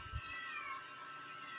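A pet cat being bathed gives a short faint meow at the start, followed by soft splashing and background hiss.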